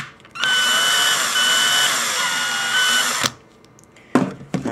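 A drill taps a thread for a homemade GoPro tripod mount, giving one steady whirring whine of about three seconds, then a few short knocks and clatters.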